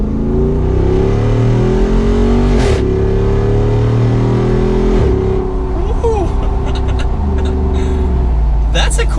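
A 2021 Jeep Wrangler Rubicon 392 with its V8 on larger 37-inch tyres pulls a quick U-turn, the engine rising and falling through loud revving gear changes up close while someone talks over it.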